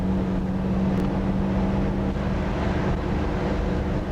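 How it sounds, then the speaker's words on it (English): A truck engine labors on a steady climb up a canyon road, a dense continuous drone with a low held hum, constant and loud inside the cab, no talking. "You can hear the truck working."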